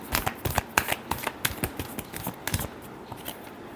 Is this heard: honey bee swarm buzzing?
no